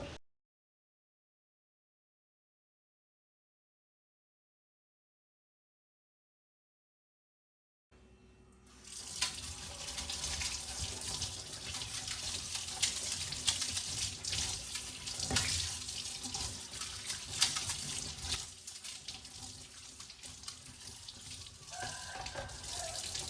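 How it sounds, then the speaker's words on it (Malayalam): Soaped dishes rinsed under a running kitchen tap, a steady gushing stream of water with light clinks, starting after several seconds of silence. "ഇപ്പോൾ ഞാൻ വെള്ളത്തിൽ ക്ലീൻ ചെയ്യാൻ പോവാം"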